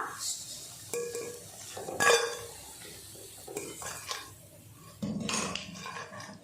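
Fried cauliflower bajji fritters lifted out of hot oil with a metal utensil: scattered clinks and scrapes against the pan over a soft background sizzle, with a few louder knocks.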